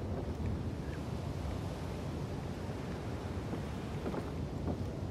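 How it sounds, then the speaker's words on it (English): Water movement in The Evil Within video game as a character swims, a steady low wash of sloshing water and wind-like rushing, fairly faint and without speech. "Why don't we just jump in the water and swim over there?"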